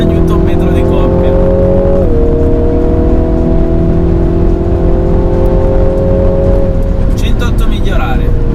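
A 2020 MINI John Cooper Works GP, 306 hp, with its engine droning steadily under load as it accelerates, the pitch stepping down briefly at a gear change, loud and continuous beneath someone talking.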